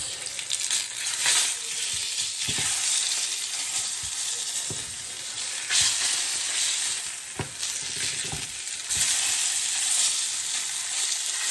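Salmon fillets fry in a pan with a steady, close sizzle and crackle that runs throughout, broken by a few sharp clicks and scrapes; no one speaks.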